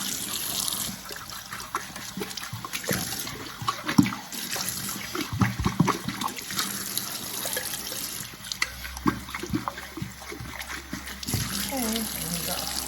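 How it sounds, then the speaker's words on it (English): Hot tap water runs and splashes steadily as parts of a nasal care machine are rinsed under it, with occasional clinks and rattles nearby. "And I just rinse it out."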